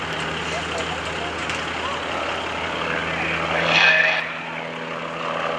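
A Decathlon aerobatic propeller plane drones overhead at an airshow, its engine swelling louder for a moment as it passes, then settling back to a steady distant hum with an announcer talking over it.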